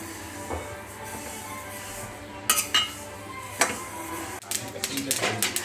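Faint scattered crackles and pops from flaxseeds roasting in a pan over low to medium flame, with sharper clinks of a utensil against the pan.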